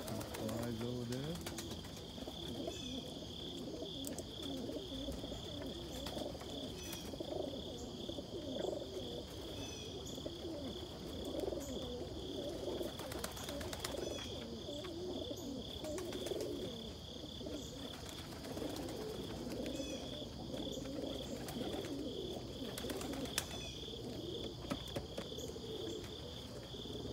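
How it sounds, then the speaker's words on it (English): Homing pigeons cooing softly in a chilly morning loft area, low repeated coos under a constant high insect chirr, with a voice talking at times. "there's a beautiful homer that I raised this year."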